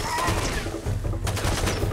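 Rapid gunfire in Far Cry 2, bursts of fairly loud automatic shots in a steady rattle, pausing briefly midway before resuming in a denser volley.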